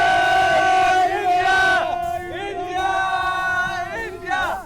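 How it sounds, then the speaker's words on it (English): Cricket fans in St. Lucia chant and cheer loudly for the Indian team before a semi-final, voices rising together in sustained, rhythmic shouts with short pauses between bursts. "One final cheer for the Indian team before the semi-final."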